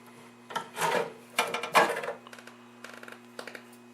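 Phillips screws are backed out of the perforated sheet-metal back of a National TV-7W television. The screwdriver makes several close, short rasping scrapes in uneven bursts, with fainter scratches between them and no voices.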